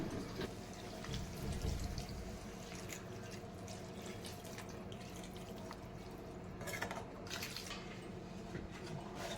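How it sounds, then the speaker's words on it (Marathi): Water is poured into a pot of rice mixed with spices for masale bhat, a soft steady trickle with light dripping that stays quiet and close throughout. "प्रतीक्षा आता त्यात पाणी टाकेल, चवीनुसार मीठ टाकेल"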